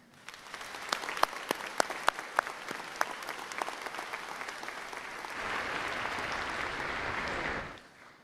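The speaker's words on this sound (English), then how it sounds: "Please give all of these individuals a gracious round of applause." At a Jackson High School graduation, scattered sharp claps start, then swell into a fuller, steady wave of applause for scholarship donors before cutting off abruptly near the end.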